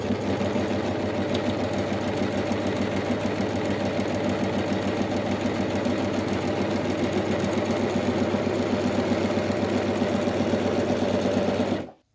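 An overlocker serger with its needle thread tension cranked very tight stitches continuously, a close, steady rapid mechanical chatter with a low motor hum, then stops at the end.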